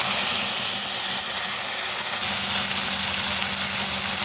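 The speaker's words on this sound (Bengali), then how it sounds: "এবার একটু ভেজে নেব।" Spices with salt and turmeric fry in a pan for a fish curry, giving a continuous loud hissing sizzle that stays even from start to finish.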